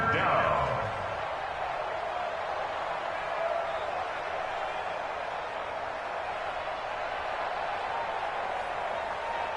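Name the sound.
crowd cheering in an American football video game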